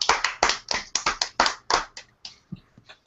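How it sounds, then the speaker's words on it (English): A few people clapping for a guest in a small room, about a dozen sharp close hand claps in a quick uneven run that thin out and stop, with no talking over them. "a huge round of applause for Amanda coming out"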